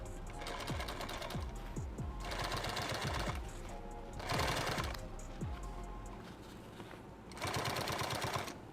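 Sewing machine top stitching a 2-quart canteen pouch, running in several steady bursts of rapid mechanical chatter separated by short pauses, close and fairly quiet with no talking.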